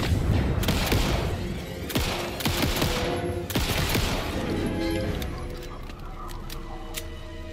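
Rapid bursts of gunfire from a horror video game, loud and close, crack out in quick irregular volleys over a tense background, thinning toward the end.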